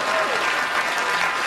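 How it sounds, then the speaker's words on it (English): An audience breaks into steady applause following a request to clap, with dense clapping holding at an even level throughout and no voices standing out. "Please clap."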